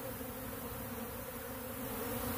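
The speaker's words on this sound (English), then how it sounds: "a lot of them always fly back. That's just bees." A honeybee swarm buzzes steadily as the bees fly back toward the branch carrying the queen's scent, a dense, continuous drone that fills the air at close range without pause.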